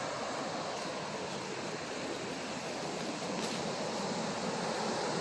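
Waterfall on Crown land in Northern Ontario: a steady, dense rushing roar of falling water, loud and unbroken throughout, with no voices.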